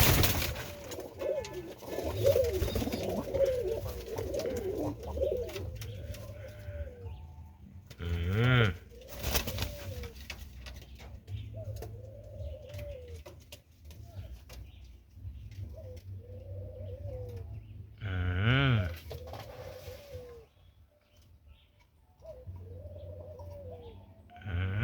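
Capuchin pigeons cooing in a breeding loft in Jamaica, with repeated soft rolling coos rising and falling throughout, some close and loud, others further back, plus occasional wing flutters and brief squabbling bursts.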